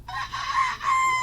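A rooster crows once, a short, loud, close crowing call lasting about a second with a brief dip in the middle.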